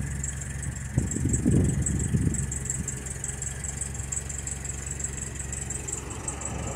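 A Citroen DSpecial engine idles low and steady as the hydropneumatic suspension raises the car from normal ride height, with a constant rumble, a faint high whine on top and a brief rougher swell early on.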